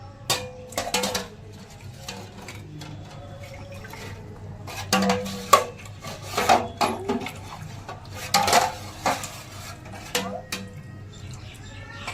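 Steel pots and dishes from a rack are scrubbed and rinsed by hand, producing irregular metallic clanks and clinks over running and splashing water, with occasional talk in the background.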